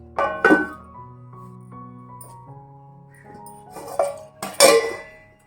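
A lid placed over a pot of mixed vegetable pickle: a sharp metallic clink with ringing tones, quiet settling, then two more clattering knocks of metal as the cover is set, close and clear.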